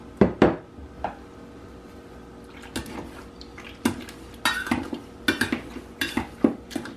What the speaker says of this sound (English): I'm gonna dump these into a bowl and I'm gonna use a potato masher